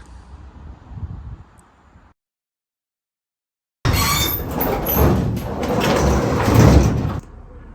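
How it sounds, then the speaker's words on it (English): Old, long-used garage doors are opened, giving a loud rolling, scraping rumble that lasts a few seconds and stops abruptly. Quiet outdoor ambience comes first, then a brief silence. "Those garage doors have seen better days."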